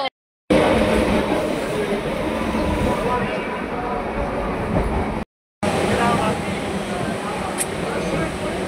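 A local train near Ranaghat rumbles along with a constant loud roar and rattle, interrupted by two brief silent cuts; voices may be faintly buried beneath.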